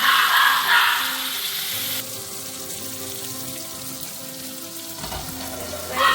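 Curry leaves drop into hot oil beside frying pearlspot fish, giving a loud, steady crackling sizzle that starts strong and settles into a continuous hiss.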